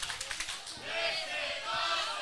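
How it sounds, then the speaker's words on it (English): Wrestling crowd at a Texoma Pro Wrestling show in Sherman, Texas, chanting in rhythmic bursts at first and then swelling into a sustained, loud roar that fills the whole clip. "What a chant from the crowd here in Sherman"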